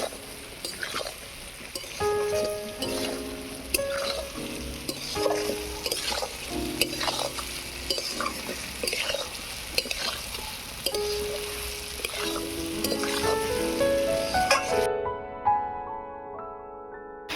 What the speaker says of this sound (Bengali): সয়াবিন আর আলুটা ভালো করে কষিয়ে নেব।